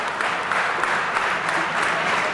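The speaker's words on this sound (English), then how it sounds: "Fans cheering Doe on as he pops Dark right in the face." Wrestling crowd cheering and applauding at a tag-team match featuring Balls Mahoney and Shirley Doe, a steady dense wash of claps and cheers that holds evenly throughout.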